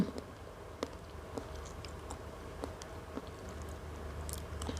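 Crunchy salmon roe being chewed as part of a Thai meal with papaya salad, giving soft, close crackling bites and squishy pops in an irregular rhythm over a quiet background, with no talking.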